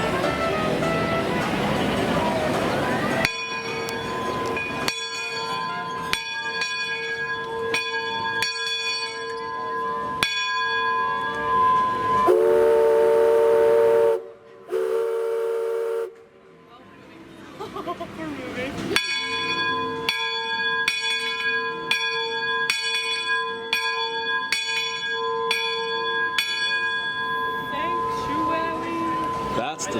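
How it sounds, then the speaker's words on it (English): The Mark Twain riverboat at Disneyland rings its bell in slow, evenly spaced strikes, then sounds a long, loud steam whistle blast before the bell resumes, with people talking around it. "That's the sound of the Mark Twain."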